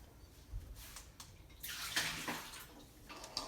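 Warm water is poured off two eggs in a bowl in a home kitchen. There are short splashing pours, then a longer trickling gush, with no talk.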